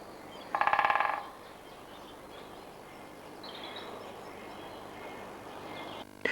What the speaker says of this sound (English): They vibrate their bills on dead wood to produce a drumming sound.